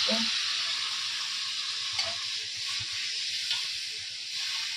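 Water hits a hot cooking pan on a gas stove in a home kitchen and gives a steady, fairly quiet hiss of sizzling steam, with faint stirring and a brief voice in the background.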